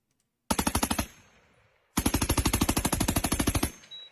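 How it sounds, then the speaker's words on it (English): A light machine gun fed by a new cartridge feeding system fires two loud, rapid bursts, a short one then a longer one, each with dense rhythmic reports and a brief gap between. "the Ukrainians trying out a new cartridge feeding system for light machine guns"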